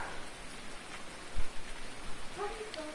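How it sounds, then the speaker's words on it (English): Rain in the Farming Simulator 19 video game, a continuous close patter of drops on surfaces with a few louder thumps, heard alone without talk. "But it's raining now."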